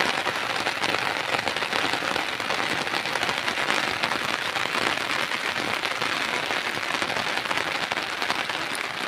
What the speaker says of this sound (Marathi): पाऊस आलाय, चांगला पाऊस आहे.